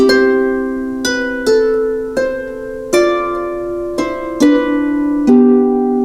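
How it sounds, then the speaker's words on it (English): A harp plays a slow melody harmonized in sixths, with paired plucked notes struck roughly once a second and left to ring, close and solo. "But when I add the sixths, it sounds like this"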